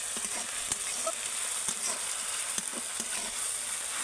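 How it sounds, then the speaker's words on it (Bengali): Onion and ginger-garlic paste fry and sizzle steadily in a pan for Bengali begun paturi, a constant hiss with light stirring scrapes and taps now and then, close up and with no talking. "এবার আমি দিয়ে দেবো আদা রসুন বাটা, ওটাকেও আমি পেঁয়াজের সাথে ভালো করে একটু ভেজে নেব।"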